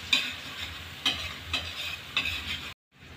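Masala for an egg tawa curry fries in a pan with a continuous close sizzle, broken by four evenly spaced spatula scrapes before cutting off abruptly.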